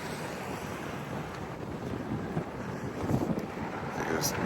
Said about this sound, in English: Still windy out here this morning.